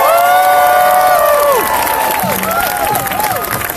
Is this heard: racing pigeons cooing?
no